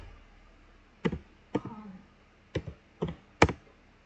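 Router commands are typed on a computer keyboard: five quiet, separate keystroke clicks, some doubled, spaced about half a second apart over a faint room hum.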